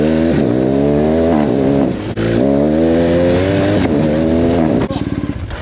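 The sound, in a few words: BMW R 1250 GSA Rallye motorcycle engine revving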